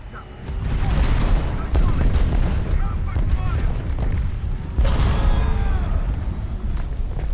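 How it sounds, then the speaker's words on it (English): Artillery strike in the video game War Thunder: a barrage of heavy, rumbling booms and blasts landing in quick succession, loud and close, with no talking. "Artillery strike."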